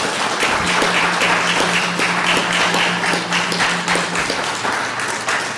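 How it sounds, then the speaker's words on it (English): At a Frederick County Republican Club town hall on Common Core, the audience applauds the panel with brisk, even clapping for several seconds over a low steady hum before it tapers off. "Let's give our panel one more round of applause."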